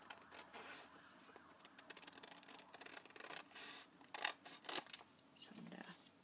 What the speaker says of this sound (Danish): så klipper vi den her op her.